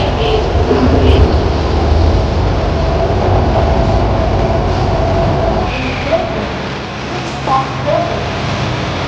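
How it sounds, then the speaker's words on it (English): A metro train in Vietnam rolls along with a steady loud rumble and whine of the carriage, brief squeals rising near the end of the ride. "we made a pretty quick ride on the metro"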